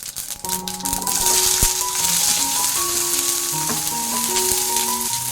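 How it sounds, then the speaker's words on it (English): Mustard seeds and chopped onions frying in hot oil in a pan, a steady loud sizzle with scattered pops and crackles and stirring rattles throughout, no talking. "And again in the same pan, I am adding little more oil. Once hot, mustard seeds go in,"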